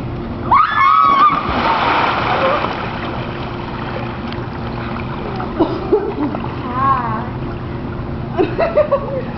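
Several people jump into swimming pool water: a loud splash near the start is followed by churning and lapping water, while voices shout and chatter throughout.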